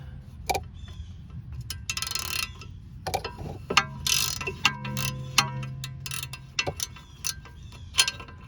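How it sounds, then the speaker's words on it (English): A breaker bar and socket work loose the lower control arm nut on a 2004 Chevy Malibu, giving a series of sharp metallic clicks and ratcheting clanks spaced irregularly, close up with a garage hum behind. "Since we can get it loose with the breaker bar on this side."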